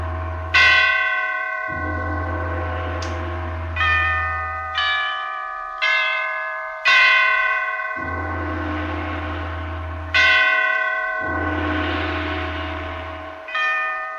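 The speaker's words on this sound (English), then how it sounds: "the great bells of St. Petersburg tolled their requiem" Great church bells toll a requiem in St. Petersburg: about ten heavy, resonant strikes in an uneven slow rhythm, each ringing on with a long bright decay over a low steady hum.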